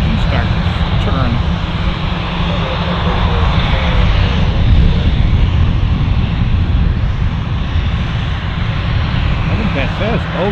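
Gulfstream G550 jet engine starting and spooling up at a busy airport, a steady broadband roar holding throughout at close range, with faint voices underneath.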